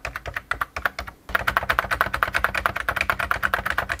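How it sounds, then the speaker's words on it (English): Typing on a Brother WP-1 word processor keyboard, two keys pressed alternately in a fast, even stream of sharp clacks after a brief pause, close and loud, with no talk. "This is me typing two letters alternately"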